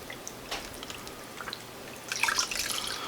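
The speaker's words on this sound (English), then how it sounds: "I used this organic vegetable broth, and I'm going to add this to it so that it's soupy." Organic low-sodium vegetable broth poured into tomato soup, quiet liquid splashing and trickling that grows louder toward the end, with no voices.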